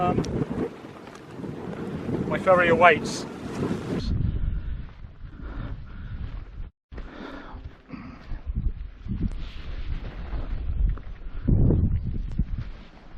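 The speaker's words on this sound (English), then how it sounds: "it's too windy, it's raining" Strong gusts of wind and rain buffet the microphone on a hilltop at Clauchland on Holy Island in Lamlash Bay, roaring in uneven surges and briefly dropping out, while someone speaks briefly over the noise.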